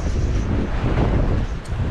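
Strong wind buffets the microphone on a seaside fishing pier at Deal in Kent, a loud steady roar with gusty swells and no speech.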